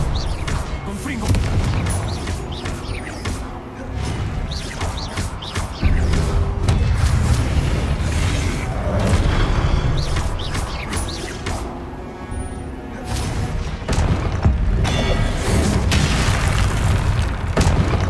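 Confringo spell explosions in the video game Hogwarts Legacy, dense, loud booms and crashes layered over game music and effects, with bursts that come and go across the stretch.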